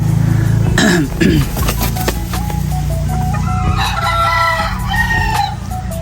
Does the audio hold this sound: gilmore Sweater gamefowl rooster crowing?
yes